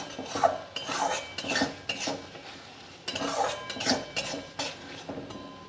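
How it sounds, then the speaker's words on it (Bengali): A spatula stirs and sautés masala in a kadai for Bengali egg curry, giving irregular scraping and metallic clinks against the pan with a faint sizzle, close up and with no talking. "এবার এটাকে সুন্দর করে কষাতে হবে, খুব ভালো করে কষিয়ে নিতে হবে।"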